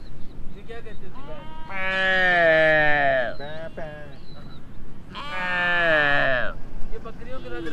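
A person imitates a goat, letting out two long wavering bleats close to the microphone with a short pause between them, outdoors on a mountain trek with faint background noise.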